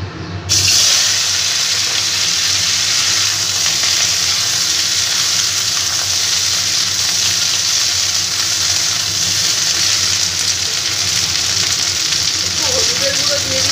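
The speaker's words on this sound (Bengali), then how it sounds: "আমার তেল গরম হয়ে গেছে, এবার আমি ভেন্ডিগুলোকে ভেজে নেব।" Okra sizzling in hot oil in a wok, a loud, dense, unbroken frying hiss lasting throughout, close up with a slight crackle near the end.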